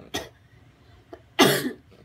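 Two coughs, a short one followed after a pause by a louder, fuller cough, with a faint small sound between them; close and otherwise quiet.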